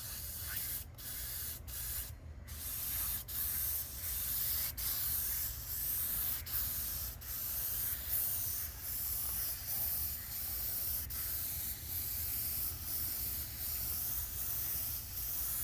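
Spray gun laying Total Boat Marine Wood Finish varnish onto teak, a steady close airy hiss broken by short pauses and clicks as the trigger is released, with no talking.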